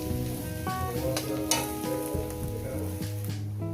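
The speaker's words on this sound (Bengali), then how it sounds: "গ্যাস একদম লোতে করে দিয়ে এই ভাজাটা যখন রান্না করবেন" Grated coconut filling fries on low gas with a soft, continuous sizzle and occasional stirring scrapes, partly covered by melodic background music.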